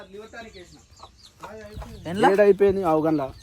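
A chicken clucks nearby in a string of short, pitched calls that grow louder and more rapid toward the end, with a few quieter clucks earlier.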